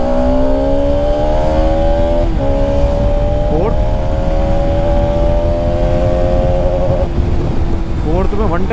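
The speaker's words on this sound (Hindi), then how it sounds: "प्लस इसका एक्सेलरेशन अब मैं एक बार एक्सेलरेट करके दिखाता हूँ" A Bajaj Pulsar RS200 motorcycle engine pulls loud and steady through the gears on a city road, its pitch climbing in long sweeps with brief dips at each shift, over constant wind and road roar.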